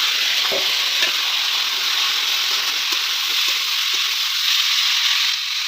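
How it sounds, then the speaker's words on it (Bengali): Chopped vegetables fry with onions in hot oil in a pan for a soybean dish, giving a loud, steady sizzle with occasional stirring scrapes and no talking. "সবজিটা আমার ভাজা হয়ে গেল, দেখো বন্ধুরা, লাল লাল হয়ে গেছে।"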